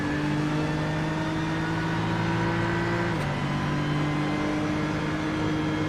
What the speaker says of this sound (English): Just listen to his car here from around and see what we get from the BMW.